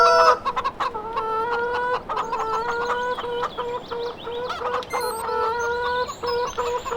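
A flock of chickens on a farm in Farming Simulator 2013, clucking steadily and fairly close, with overlapping repeated tonal clucks and squawks throughout and no talk.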